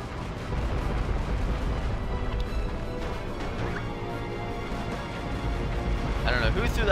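A bomb blast booms in the Ratchet & Clank HD Collection game, a heavy rumbling explosion with crashing debris layered over continuous combat noise, while a player talks over it.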